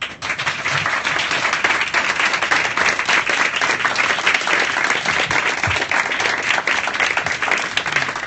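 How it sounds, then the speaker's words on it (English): A conference audience gives the panel a round of applause, many hands clapping in a dense, steady wash that holds at an even level from start to finish. "So now I want you to make two rounds of applause. The first one is for the panel."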